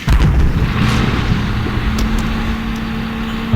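In the video game Combat Mission: Shock Force, a loud burst of gunfire booms at the start, then a sustained low rumble and mechanical hum continue, with faint sharp cracks further off.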